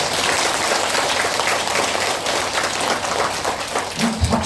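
Lecture audience applauding during a health talk, loud dense clapping that holds steady throughout, with a brief voice cutting in near the end.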